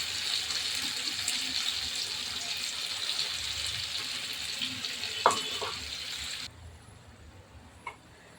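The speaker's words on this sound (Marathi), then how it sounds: "मसाला छान तेलामध्ये परतवून घ्यायचा" Masala spices frying in oil in a pan for a Marathi-style saar, a steady soft hiss that runs evenly, then cuts off abruptly near the end, with a couple of brief clinks.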